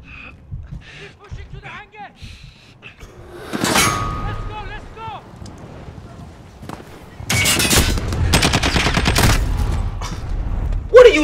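Bursts of gunfire from a Call of Duty: Modern Warfare campaign battle, with scattered shots early and a dense, loud volley of automatic fire late, while someone talks over the fighting.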